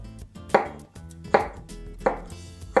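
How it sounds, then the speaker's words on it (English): Knife slicing a pepper thin on a cutting board while cooking Mexican dishes: three distinct, close chopping strokes at a steady rhythm, each a sharp crisp cut, with no talk. "So we're gonna slice it really thin so that they can be blackened very quickly."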